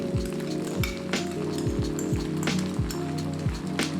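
Rice noodles and pad see ew sauce sizzle and crackle in a hot wok over high heat, with a steady hiss broken by repeated clinks and scrapes as the noodles are tossed.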